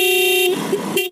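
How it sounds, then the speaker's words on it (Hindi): An aftermarket loud horn fitted to a Bajaj Pulsar 160 NS motorcycle blares in one sustained, close, tonal blast that briefly wavers before cutting off abruptly. "अब मैं आपको हॉर्न प्ले करके बता देता हूँ कैसे बज रहा है ये"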